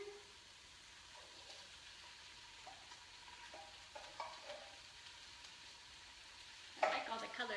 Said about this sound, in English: Ooh, got the sizzle going.